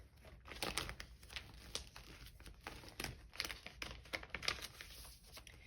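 Paper crinkles and rustles close by as a post sticker is peeled and handled, with scattered soft crackles and small taps coming in irregular bursts at low volume.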